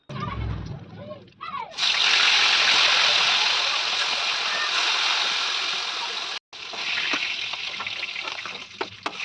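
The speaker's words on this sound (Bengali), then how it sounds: "এখন আমি প্রত্যেকটা মাছকে ভালো করে ভেজে নেব" Fish rubbed with salt and turmeric frying in hot oil in a wok, giving a loud, steady sizzling hiss that starts abruptly, cuts out for a moment, then resumes with crackles.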